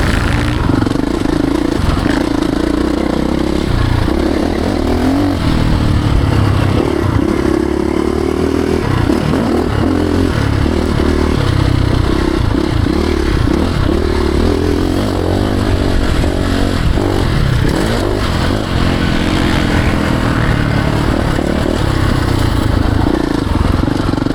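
A Ducati Desmo 450 MX motocross bike revs hard on a private dirt track, loud and close, its engine note rising and falling in repeated throttle bursts with rattling clatter throughout.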